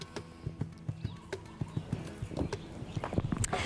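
Horse hooves clip-clopping in a steady rhythm at an event with a horse tied to its rider, the clops close and distinct, growing busier toward the end with some background noise and no talking.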